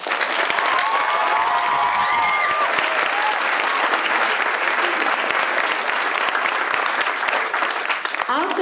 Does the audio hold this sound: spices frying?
no